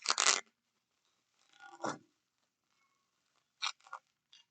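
Package wrapped in bubble wrap being opened, with sharp crinkling and tearing bursts near the mic, separated by quiet pauses.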